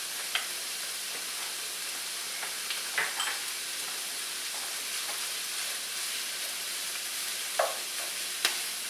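Garlic and chorizo frying in a pan for paella, a steady hissing sizzle with a few faint spoon taps and scrapes scattered through it, close-up and without talk.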